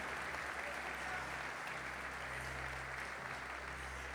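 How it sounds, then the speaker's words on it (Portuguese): Quiet, continuous applause from a church congregation during a worship service, a steady wash of clapping heard from a distance over a low background hum. "Dá um aplauso ao Senhor."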